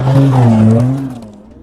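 A car braking hard with tires skidding as another car cuts it off and forces it to stop, a loud sustained engine drone and squeal that fades out.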